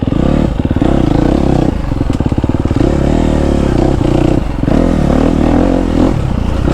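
A KTM 250 SXF four-stroke dirt bike ridden through a forest, its engine loud and close, revving up and down between throttle bursts, with clatter and thumps from rough terrain.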